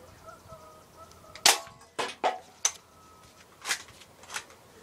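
Daisy Powerline 201 BB air gun firing: several sharp, close snaps with quick clicks in between, spread over a few seconds against a quiet background.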